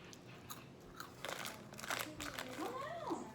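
Crunchy Chinese food is bitten and chewed close up, with crisp crackling crunches between bites while people talk over and around the chewing.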